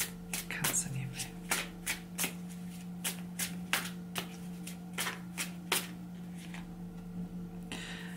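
Tarot cards are shuffled by hand for a reading, a rapid series of crisp riffling slaps in an irregular rhythm, close and clear over a steady low hum, with faint quiet speech.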